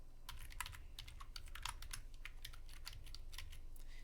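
Quick, even keystrokes on a computer keyboard as a phrase is typed into a search box, with crisp clicks close up and nothing else heard.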